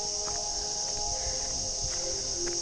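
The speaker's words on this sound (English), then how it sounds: "cicadas are here, but they're different cicadas. They're the ones that have a different sound. They're more like a more of a pleasant hum." Cicadas in Mapleton National Park make a steady, even, pleasant hum that runs unbroken through the clip. It sounds somewhat distant, with faint outdoor background and no talking.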